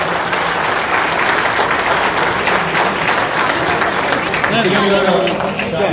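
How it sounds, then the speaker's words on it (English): An audience at a groundbreaking ceremony for a Syngene facility in Genome Valley applauds loudly and steadily, crowd noise mixed in, with a voice starting to speak over the clapping near the end. "I think she deserves a huge round of applause"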